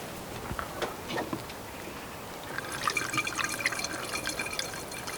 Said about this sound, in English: so I've already added some coolant, but I'm going to add a bit more